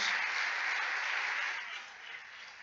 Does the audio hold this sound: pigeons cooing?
no